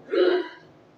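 A single short, breathy sneeze close by, a sharp burst that fades quickly into quiet.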